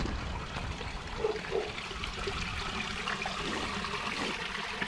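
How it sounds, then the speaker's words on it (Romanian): Water rushes and splashes steadily at close range, a continuous gushing pour from a pipe into a drain, with no voices. "Zvârăște apă, probabil potabilă."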